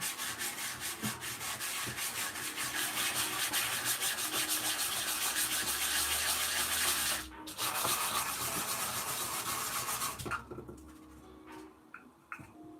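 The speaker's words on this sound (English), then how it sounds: "you can see I've just sanded that" Sandpaper rubs steadily back and forth across a flat surface for a Lego build, a continuous close scratching that pauses briefly and stops near the end, with faint bird calls in the background.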